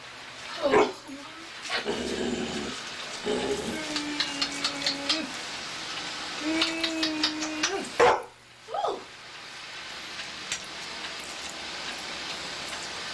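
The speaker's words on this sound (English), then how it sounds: "My dog is very loud." A pet dog barks and yips loudly in short bursts, several sharp calls spread across the clip with some whimpering, close to the listener, while people talk intermittently in a home.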